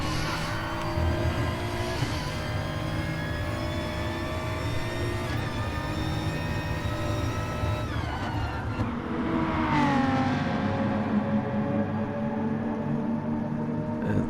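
A turbocharged BMW GT4 race car engine is pushed hard through the closing laps of a championship race, a continuous loud, high-revving drone with shifts and changes in pitch as it powers on, and other cars audible around it.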